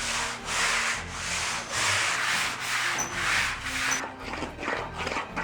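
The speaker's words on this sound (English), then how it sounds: "as you're sanding with the longboard" Long rhythmic strokes of sandpaper on a longboard sanding block rubbing across wooden planking during fairing, repeating back and forth at a steady pace, close and loud.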